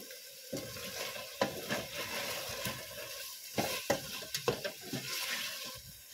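Bubbling and sizzling from pork simmering in a pan for adobo, with scattered clinks and stirring sounds, steady and close, no voices.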